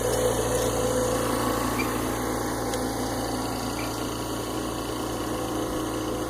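An oxygen concentrator runs with a steady low mechanical hum and faint hiss, constant and fairly quiet throughout, with no talking.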